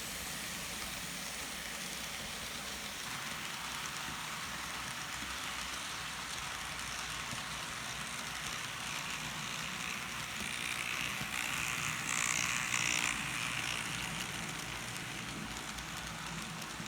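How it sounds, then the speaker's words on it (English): A Life Like F7 model train in N scale, painted in SP Daylight colours, runs quietly with a soft, continuous mechanical whir and faint gear chatter, steady throughout. "And now it's time to run some trains."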